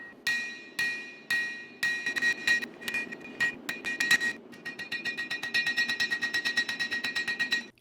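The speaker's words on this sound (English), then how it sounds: "Here, though, I forge all the bevels at once." Hammer blows on hot steel while forging the bevels of a chef's knife, with ringing metallic strikes at first spaced apart, then in a quickening, steady rapid rhythm, close and bright, with no speech.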